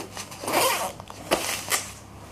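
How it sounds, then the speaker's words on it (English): A Riri Aqua zipper on a jacket prototype is pulled up in a quick, scratchy zip with a couple of short follow-up rasps, close and fairly quiet with no talking. "Riri Aqua Zips,"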